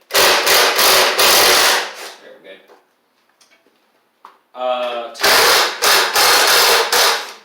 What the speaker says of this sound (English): I'm gonna pull the fuel pump off.